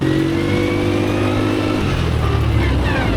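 A light, high-torque ATV engine accelerates on a road in Phuket, a loud rising buzz that shifts pitch as it gains speed, with no voices over it.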